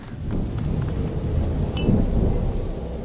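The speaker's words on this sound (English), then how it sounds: "Lucas, Hugo, stay out of the rain." Steady rain and a low rumble of thunder in the medieval world of the video game A Plague Tale: Innocence, a continuous loud downpour with a deeper roll near the middle.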